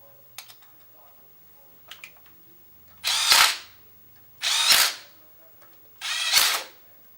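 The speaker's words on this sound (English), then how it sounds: "And we're going to reinstall our 3/4 20 bolts." Three loud, close bursts of a power tool driving 3/4-20 bolts into the crankcase cap of an Autoquip size 3 air motor, each about a second long with pauses between, preceded by faint clicks and handling noises.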